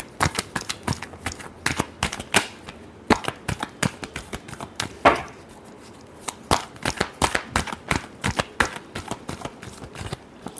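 Tarot cards being shuffled by hand, a dense run of quick papery riffles and slaps repeating steadily at close range with no talking.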